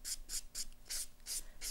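A clean finish buffing block rubs back and forth across an acrylic-gel hybrid toenail, giving six close, even rasping strokes in a steady rhythm with no voices.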